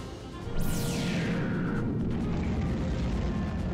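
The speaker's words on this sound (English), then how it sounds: "Explosions!" A loud boom with a descending whoosh leads into a sustained rumbling roar of blasts, dense and continuous explosions from the video game Star Fox Assault.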